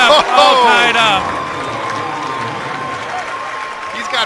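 Student cheering sections at a high school boys basketball playoff game, North Andover against Xaverian Brothers, chanting and yelling in a gym, loud and echoing, with an announcer talking over the crowd.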